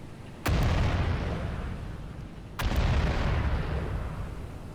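Two heavy naval gun blasts from warships in the video game Battleship Command, about two seconds apart, each a sharp loud boom followed by a long rumbling roll.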